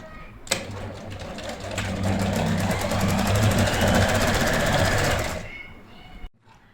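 A sewing machine runs in a steady fast stitching burst of about five seconds, stitching a fabric strip on its reverse side for a baby girl's frock frill, close and loud, then stops.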